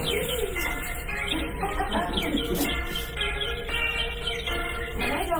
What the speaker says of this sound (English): what I don't get is the birds chirping.